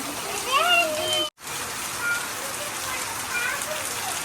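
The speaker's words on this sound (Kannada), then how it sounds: "ಜೋರಾಗಿ ಮಳೆ ಹೋಯ್ತಾ ಇದೆ" Steady heavy rain hisses continuously on surfaces, with faint bird chirps and a momentary cut in the sound.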